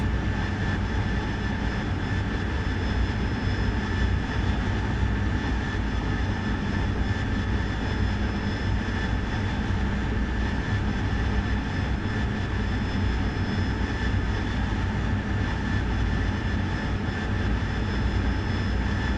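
Jet engine of a fixed-wing aircraft in the DCS World flight simulator, throttling up with a steady, loud, continuous roar and high whine that holds unbroken throughout, no voices.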